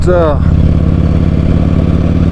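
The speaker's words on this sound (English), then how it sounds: "I tried to have my visor down to cut some of this wind noise from my mic" Steady, loud wind buffeting a rider's microphone on an Ultra Classic motorcycle, a dense low rumble mixed with engine drone throughout, with a brief voice-like sound at the start.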